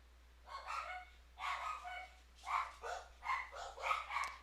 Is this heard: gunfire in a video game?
no